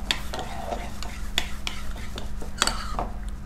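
Ingredients mixed with tahini for a Lebanese dish scrape and clack in a bowl with a utensil, in irregular strokes over a steady low hum, close and fairly quiet.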